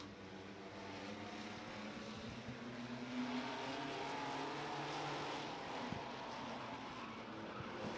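A field of race cars roars around the track at the start of a heat race, with a continuous, distant engine drone that swells and fades slightly as the pack passes and stays at a steady, moderate level throughout.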